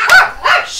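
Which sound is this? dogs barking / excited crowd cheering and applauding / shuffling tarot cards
dogs barking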